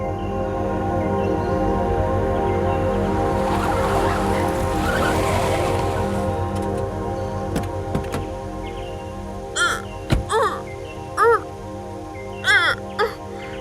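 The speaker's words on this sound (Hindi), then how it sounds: "अरे भाई साहब, जरा गाड़ी साइड में लेना।" A car slowing and pulling over at the roadside, a broad engine and tire rumble that swells in the first half and then fades, followed by a few loud bird caws.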